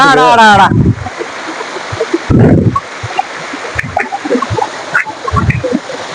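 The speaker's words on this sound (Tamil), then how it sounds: "கொடி அருவி கொட்டுது" Kolli waterfall in the Kolli Hills pouring heavily, a steady broadband rush of falling water running throughout, with voices speaking over it in bursts.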